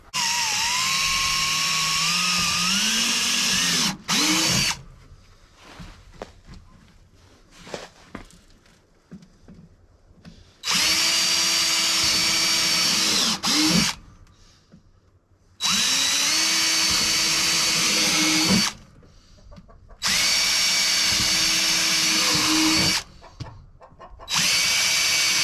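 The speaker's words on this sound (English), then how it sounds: "I'm going to drill them through and get them put in." A power drill whines loudly in several long bursts, each several seconds, drilling holes for 1/4-inch bolts through a tank, with quieter pauses of clattering and handling noise between them.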